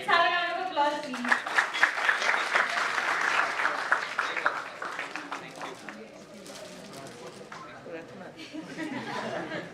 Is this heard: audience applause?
yes